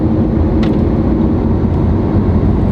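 A cooling fan runs inside the cabin of a parked Lamborghini Aventador Ultimae with its exhaust valves closed, giving a steady, close, low whooshing hum that holds evenly throughout, with a faint brief tick partway through.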